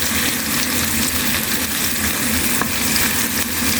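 Onions, garlic and ginger sautéing in a pan for fish sarsiado, a steady close sizzle and crackle of frying with faint stirring underneath, continuous and fairly loud with no talking.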